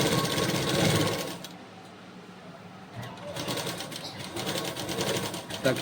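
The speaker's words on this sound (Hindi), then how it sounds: "अब इस पे हमें थोड़ा डबल सिलाई चला देना है" A sewing machine runs a double line of stitching along fabric piping, a steady rapid whirring that pauses briefly and then resumes. A person talks over it.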